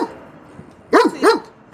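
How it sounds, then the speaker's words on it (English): A female dog on a garden property with chickens gives two loud, close barks in quick succession after a quiet moment with light background noise. "is she barking at me because she's mad at me?"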